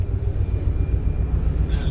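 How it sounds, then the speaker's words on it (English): Helicopters hover near the Artemis crew module after its ocean splashdown, a loud, steady rotor and engine drone with a pulsing low throb, continuous and close, with faint talk in the background. "The helicopters will be out for another 20 minutes gathering imagery."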